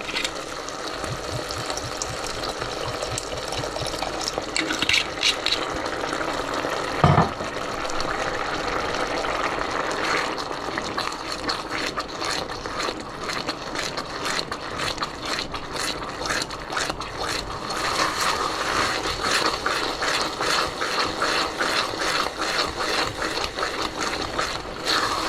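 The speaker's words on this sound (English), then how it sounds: "I just keep adding the water until this" Water pours steadily into a risotto pan for an Asian-style risotto, a continuous splashing gush lasting the whole stretch with faint scraping underneath and no talking.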